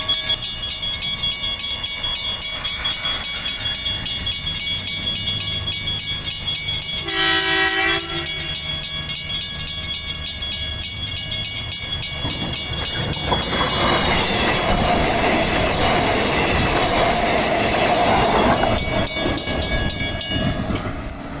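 A Perth suburban train on the Midland line rumbles steadily and loudly throughout, with a brief horn-like tone partway through, and the wheel and carriage noise grows rougher and louder toward the end.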